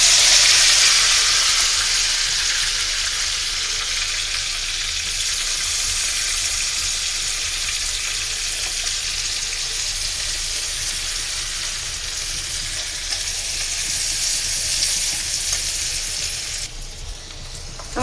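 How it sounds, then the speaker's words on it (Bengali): Onions frying in mustard-free leftover oil used earlier to fry fish, a steady close sizzle and hiss running continuously throughout, loud and unbroken with no voices. "ওর ভিতরে আমি এখন পেঁয়াজ দিয়ে দেবো"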